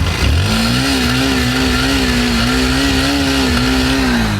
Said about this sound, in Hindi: अब एक बार स्टार्ट कर लिया है तो साउंड भी सुन लेते हैं गाड़ी का